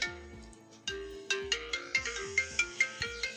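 An iPhone ringtone melody plays alone, a bright tune of repeated plucked notes over a pulsing bass pattern, steady and clear at moderate level.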